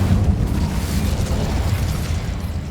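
Incendio fire spell cast in Hogwarts Legacy: a loud, rumbling roar of flame that bursts out and holds steady for under three seconds, alone with no voices.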